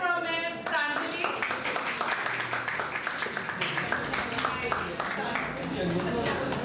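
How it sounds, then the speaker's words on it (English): Audience at a Christmas celebration clapping for Pranjali after a spot prize, a dense, steady round of applause from a crowd of people, with voices mixed underneath. "Please clap from ma'am Pranjali"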